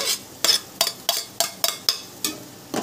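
Finely chopped tomatoes cooking in hot oil in a pan with onion-coriander paste for chicken rassa, stirred in about eight quick, evenly spaced scraping strokes over a soft sizzle, with no voices.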